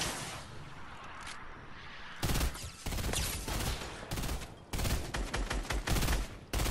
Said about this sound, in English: they're just fucking shooting at us still.